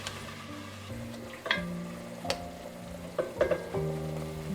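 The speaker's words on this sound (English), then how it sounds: "Deglaze the pot with red wine, scraping up all those flavorful bits." Red wine hits a hot Dutch oven during a pot roast deglaze, giving a steady close sizzle with scraping and stirring knocks from a utensil against the pot.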